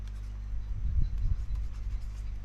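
Chalk or marker scratching on a board during an English lesson, a short run of close, low rubbing strokes in a quiet room.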